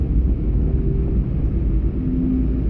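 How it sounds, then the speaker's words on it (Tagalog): A loud motorized tricycle rumbles past close by, a deep, rough engine roar that holds steady for a few seconds like a jet flyover, with no talking. "murag fighter jet ang ilang mga tricycle"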